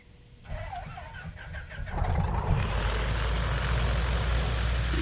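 A piston aircraft engine in the flight simulator MSFS 2024 cranks with a few quick starter pulses, then catches and settles into a loud, steady running roar that continues to the end, with no talking.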